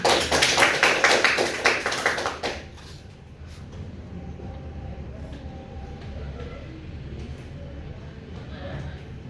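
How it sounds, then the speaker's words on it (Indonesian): Classroom applause during a microteaching session, a burst of many hands clapping for about two and a half seconds, then fading into quiet room tone with faint voices. "Tepuk tangan untuk kita semua."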